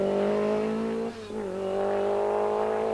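A supercharged Lancia rally car on a stage of the 1983 Circuit of Ireland Rally holds a steady, droning engine note with a brief dip and pitch shift midway as it changes gear, moderately distant and alone.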